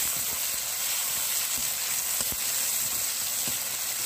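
Tomatoes with crushed ginger fry in a pan, giving a steady, even sizzle with faint scrapes and taps as they are stirred, close and alone.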